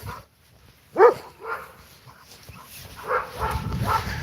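A dog gives a few short, close barks with softer whimpering yelps between them, rising in a cluster and trailing off over a few seconds.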